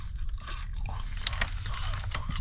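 Crisp crunching bites of fried food, close and irregular, over a low background rumble.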